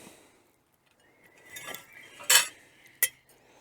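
A knife cuts into crispy pork belly on a plate, faint scraping followed by a louder crunchy crackle and a sharp metallic clink against the dish, with quiet gaps.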